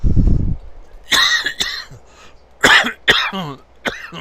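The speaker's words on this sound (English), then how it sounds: "Yeah, the Roseburg cough." Several harsh, close coughs in quick bursts, with a throaty rasp between them.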